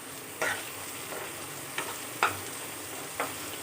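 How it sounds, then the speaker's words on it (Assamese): Ginger garlic paste fries in a pan for a cucumber and chickpea curry, giving a steady close sizzle broken by several sharp scraping stir strokes, with no talking. "ইয়াত আৰু এতিয়া মই আদা নহৰু পেষ্টখিনি দি দিম ইয়াত আৰু দি পেলাই অকণমান ভাজি ল'ম আকৌ এবাৰ"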